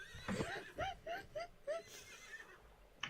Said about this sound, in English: That's the horses probably freaking out at the sight of Hovel.